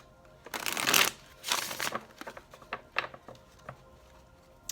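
A deck of tarot cards is shuffled close up, a few quick riffling bursts followed by softer clicks and taps, with no talk.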